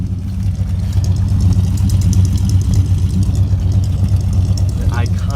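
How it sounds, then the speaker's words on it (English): A flathead V8 engine idles steadily with a deep, even rumble that holds throughout, close by, with no voices. "You can see that flathead V8 in there. Just purring away."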